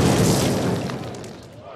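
Call of Duty explosive charge detonating: one loud, close boom that fills the sound and then decays into a rumbling tail over about two seconds.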